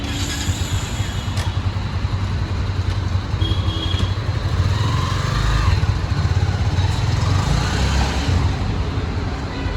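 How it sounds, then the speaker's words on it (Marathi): A Honda CB300F motorcycle rolls into a service center, its engine a steady close low rumble that swells slightly midway, with no talk over it. "आपली बाईक आता सर्व्हिससाठी आतमध्ये जाईल"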